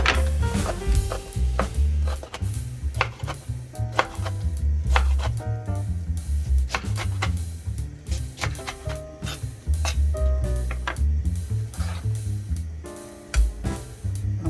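A knife chops kimchi finely on a cutting board with quick, close, loud knocks in steady bursts, repeating throughout with no talk.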